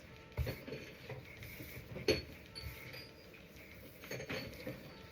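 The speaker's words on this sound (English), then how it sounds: "ignore the clinking and clinking behind me" Glass fragrance bottles being rummaged through in the background of a bath bomb making session, producing faint, scattered clinks and small mechanical clatters at irregular intervals.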